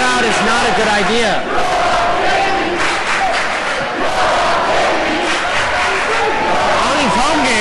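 Chicopee Comp fans jeer during a high school basketball game against South Hadley, a loud, continuous crowd roar of chanting and shouting that fills the gym.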